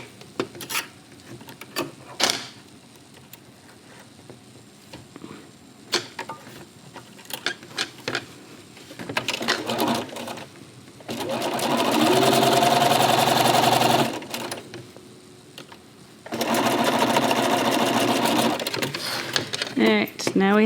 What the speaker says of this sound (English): You just align the two pieces and just sew them together.